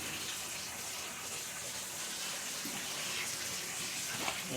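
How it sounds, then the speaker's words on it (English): Tap water rushes steadily through a newly fitted quarter-turn shut-off valve as the supply to a rebuilt toilet tank is turned back on, a continuous close hiss and gush with no pauses. "Right now I'm just getting the water back on."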